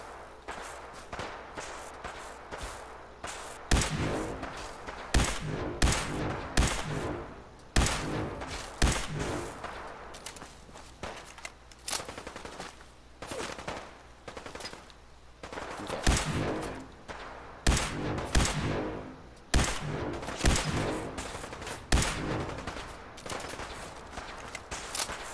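In Fallout 4, rapid bursts of gunfire crack out close and loud, clustered volleys with short gaps between them and a few footstep-like thuds, no voices.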